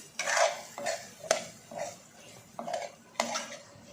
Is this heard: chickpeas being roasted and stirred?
yes